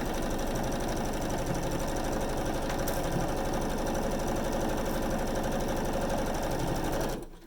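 A sewing machine stitches a quilt block seam for a spinning star block in one steady, continuous mechanical run, loud and alone, cutting off abruptly near the end.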